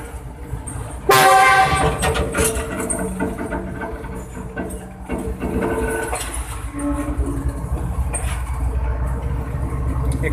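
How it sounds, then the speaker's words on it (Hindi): A locomotive on the Karachi line sounds a loud, sustained horn that opens abruptly and holds for several seconds amid crowd noise from rail fans gathered at an inaugural train run, followed by rumbling rail traffic. "ड्राइवर साहब को सब इशारा कर रहे हैं कि विसल बजाएं।"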